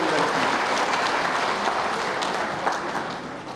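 Dense, loud applause from a large audience at a political rally welcoming Modi, a continuous wash of clapping that tapers slightly toward the end.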